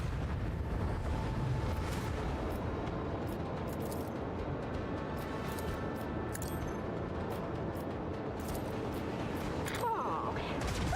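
Macro cannons fire on an enemy ship during space combat in Warhammer 40k: Rogue Trader, a dense, continuous rumbling barrage with heavy low-end booms and a steady roar throughout.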